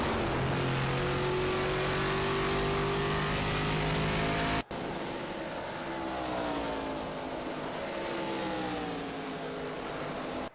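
Race car engine in a NASCAR-style sim racing game at Darlington Raceway, a steady loud drone with shifting pitch as cars run, continuous throughout with a brief dropout midway.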